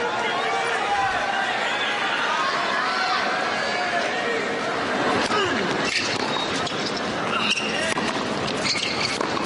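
A tennis stadium crowd of about 20,000 at a fifth-set Agassi vs Baghdatis match buzzes steadily, a dense murmur of chatter and scattered voices holding a constant level throughout with no single dominant sound.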